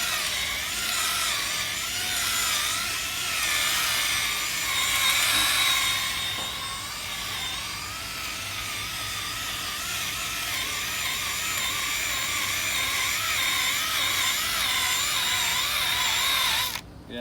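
Continuous close scrubbing from a car headlight being sanded in a crosshatch pattern with a Harbor Freight headlight renewal kit, steady and loud for the whole stretch before cutting off at the end.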